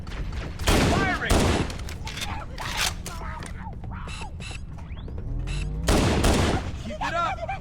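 Gunfire from the Halo: Combat Evolved video game, with loud rapid bursts of automatic weapon fire, mechanical clatter and alien weapon effects. Combat voices shout in between.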